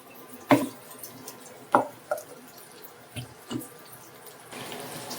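Water being added to a paste of mustard, poppy seed and tomato: a few separate splashy pours and drips, with a faint steady trickle toward the end and no talk.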